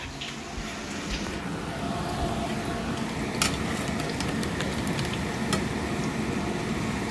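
Pakoras fry in oil in a frying pan with a steady, dense sizzle and crackle, with occasional light clinks of a utensil against the pan.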